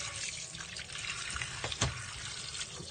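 Fish head of rui (rohu) being rinsed under a running kitchen tap, a steady splashing water stream with small knocks and handling sounds, close and fairly even throughout.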